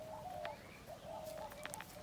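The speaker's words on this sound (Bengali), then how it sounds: "পাখির ডাক" In a Bangladeshi village, birds call faintly in the distance, with soft cooing and a few brief higher chirps over a quiet outdoor hum.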